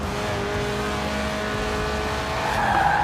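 A Lotus Elise, a mid-engined, rear-wheel-drive 1990s two-seat roadster, drifts in Forza Horizon 4, its engine droning loudly and steadily as the tires squeal continuously throughout.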